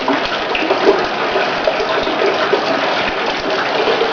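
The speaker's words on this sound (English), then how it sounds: "there's a 55 gallon drum filling up with rainwater" Rainwater pours steadily into a 55 gallon drum beside a barbecue hut and shower house, a continuous close splashing gush that holds at an even level throughout with no talking.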